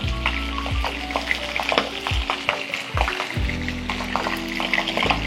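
Pabda fish fried with kalo jeera in a pan, a loud, steady close-up sizzle of hot oil with spattering crackles and a few stirring or scraping sounds, no voices.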